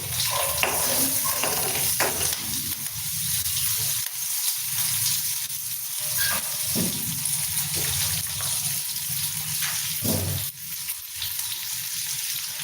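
Oil sizzles and crackles steadily in a pan as dried red chilli, curry leaves, ginger and green chilli fry, a continuous frying hiss with occasional sharper spits and pops, close up and without talk.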